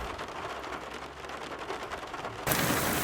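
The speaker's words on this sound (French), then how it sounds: "Là c'est le déluge." A heavy downpour during a violent thunderstorm pours as a dense, continuous hiss of rain. It swells suddenly louder near the end as the deluge intensifies, with no voices.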